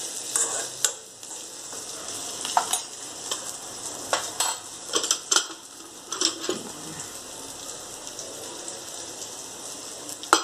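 Eggplant curry with turmeric and chili powder frying in a pan, a steady soft sizzle broken by repeated sharp scraping and clinking stirring strokes at close range.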